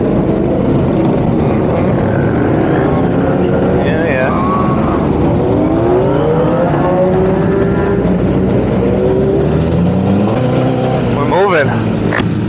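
A large group ride of more than a hundred motorcycles pulls away, with engine drones rising and sweeping in pitch under constant rushing wind noise from a riding microphone.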